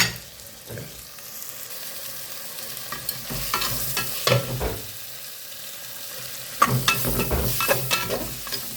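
Tomatoes and onions sauté in a pan with a soft background sizzle, broken by bursts of stirring and scraping from a spoon against the pan, the loudest stretch coming near the end.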